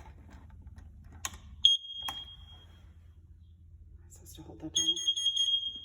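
A household smoke detector being tested sounds two sharp, high-pitched beeps, each lasting about a second, with people talking quietly nearby.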